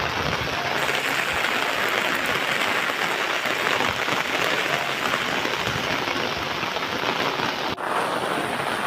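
Heavy monsoon rain in the Konkan, a dense, unbroken hiss and patter of downpour on surfaces, loud and steady throughout with a slight dip near the end.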